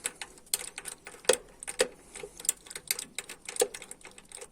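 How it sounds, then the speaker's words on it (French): A hand ratchet clicks in quick irregular bursts while unscrewing the second spark plug from a car engine, the metallic ticks near and fairly faint with short pauses between strokes. "on va dévisser, poser le cliquet"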